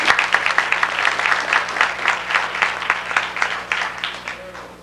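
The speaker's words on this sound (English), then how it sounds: "Let's give her a round of applause anyway." An audience claps in steady applause at a 1988 high school athletics banquet, a dense, even patter of many hands that fades toward the end.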